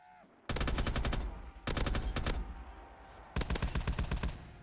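Video game gunfire with an unlimited-ammo perk, three rapid automatic bursts of sharp shots separated by short pauses, loud and punchy against faint background noise.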